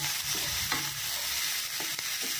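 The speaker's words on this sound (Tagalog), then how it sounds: "Igisa at isama na ang lemongrass." Onion, garlic, tomato and lemongrass sauté in a pan with a continuous hissing sizzle. A few scrapes and clinks of a stirring utensil come through, and nobody speaks.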